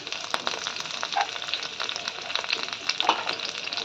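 Garlic, bay leaf and chopped curry leaves sizzle in melted butter for a butter paneer masala, giving a steady close crackle and hiss with brief sharper pops.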